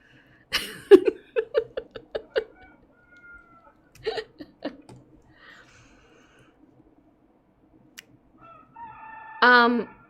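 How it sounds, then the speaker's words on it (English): A Barnevelder rooster crows near the end with a loud, drawn-out call, preceded by scattered clucks and short fowl noises in a quiet setting. "Freddie, my Barnavelda rooster, announces me every time I go to the toilet."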